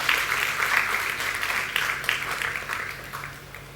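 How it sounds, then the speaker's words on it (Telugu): An audience applauding during a pastor's talk, with a sustained wash of many hands clapping that peaks early and gradually fades toward the end. "చప్పట్లు కొట్టండి."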